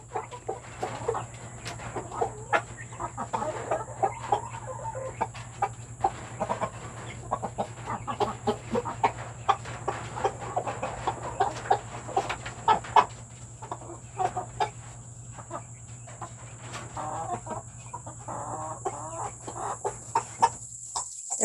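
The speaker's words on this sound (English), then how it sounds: "let's look at these other chickens over here. They're having a fit." Backyard chickens, six-week-old Silkies in a big coop, cluck and fuss in a steady, busy chatter at moderate distance, with occasional sharper calls rising above a constant low hum.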